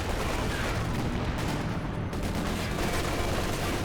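Land Mattress rocket artillery fires in Company of Heroes 2, a dense, continuous barrage of booming launches and impacts rumbling steadily, with faint talk barely present.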